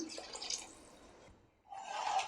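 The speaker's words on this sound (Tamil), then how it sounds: "இப்போது தேவையான அளவு தண்ணி சேர்த்துக்கலாம்" Water pours into a cooking pot of soaked rice for chicken biryani, a soft splashing trickle that runs, pauses briefly, then resumes closer and a little louder.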